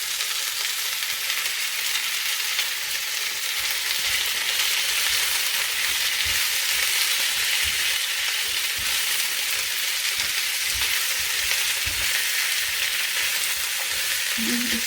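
Onions fry in a meat mixture for a homemade meat and potato pie, a constant loud hiss and sizzle filling the whole stretch with faint low stirring knocks and no talking.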